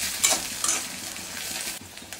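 Onion, green chilli and halved garlic cloves fry in hot oil, a steady moderate sizzle punctuated by a few sharp stirring scrapes near the start.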